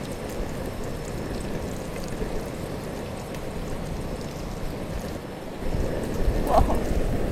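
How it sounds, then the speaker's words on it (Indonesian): Strong wind buffets an outdoor cooking spot in a steady, rushing roar that swells louder toward the end, with no one talking over it. "Ini anginnya emang gede."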